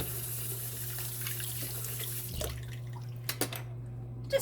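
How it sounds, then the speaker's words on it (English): Bowl being rinsed under a running kitchen tap, a steady low rush of water with faint splashes, then the flow stops and a few sharp clinks and drips follow. "Give this a quick rinse out."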